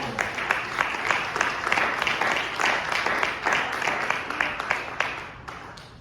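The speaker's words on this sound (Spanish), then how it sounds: "Denle un aplauso a Él." A church congregation breaks into applause, a full room of clapping with some distinct nearer claps, lasting about six seconds with a few voices mixed in.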